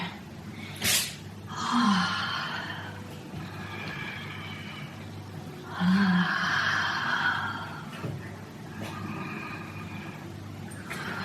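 Slow meditative breathing, with soft airy inhales and exhales spaced several seconds apart, a few sharper gasps among them, close and quiet over a faint low background hum.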